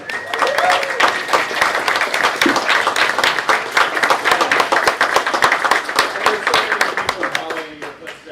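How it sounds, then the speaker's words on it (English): An audience applauds graduating seniors with steady, dense clapping that lasts several seconds, loud and continuous before it tapers off at the end. "will you raise your hand or stand up to be applauded for your curiosity and imagination?"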